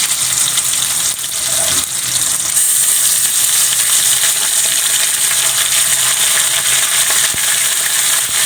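Stingray pieces fry in a hot pan with loud, steady sizzling and crackling up close. A spoon stirs and scrapes briefly near the start, and no one speaks.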